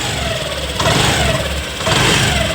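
Near and loud, a car engine with a rattle idles roughly and is revved twice, about a second apart, each push bringing a gritty, jangling surge over the low hum.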